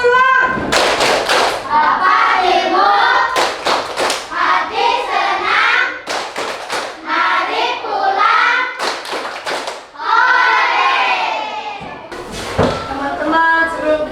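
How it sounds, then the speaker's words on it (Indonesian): Classroom of children performing the 'tepuk pulang' clapping chant, bursts of rhythmic group claps and thuds alternating with sung chanting voices, loud and close throughout. "Ibu Guru, tepuk pulang"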